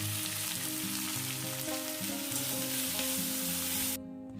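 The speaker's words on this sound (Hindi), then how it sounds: "जब तेल गरम हो जाए तो मैं उसमें ज़ीरा डाल दूंगी और जैसे ही ज़ीरा क्रैकल करने लगे तो मैं इसमें प्याज डालकर उसे भून लूँगी।" Cumin crackling and onion frying in hot oil in a kadai, a close, dense sizzle that runs unbroken and then cuts off abruptly near the end, with no talking.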